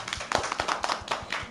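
Children clapping during a classroom lesson, a few close, light hand claps in an uneven rhythm, roughly a dozen distinct smacks over a brief span with no talk.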